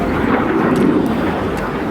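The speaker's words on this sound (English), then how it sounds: "This is a specific figure realized by the Patrouille de France, especially the side flight from the Alpha Jet." A Patrouille de France Alpha Jet roars past at an airshow, a loud continuous broadband jet rumble holding steady throughout.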